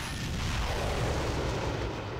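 Deep booming blasts of fireworks in Bioshock Infinite, a dense, loud rumbling barrage of low explosions rolling continuously without pause.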